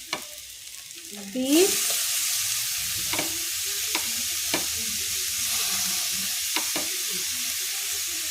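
Potatoes for vegetable chops fry in a pan with a steady hiss, broken by a few sharp scrapes and taps as they are stirred; a brief word is spoken near the start.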